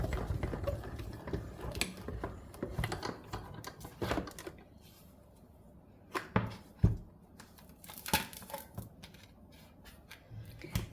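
A manual die-cutting machine presses card and an impressions plate between cutting plates, giving quiet irregular clicks, ratcheting turns and scraping mechanical bursts close by.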